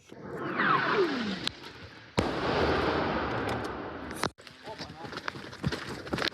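A descending whistle streaks in, then a loud blast and a long rumbling roar of an incoming artillery shell exploding near Pokrovsk, Ukraine, followed by a second sharp crack and scattered lighter thuds.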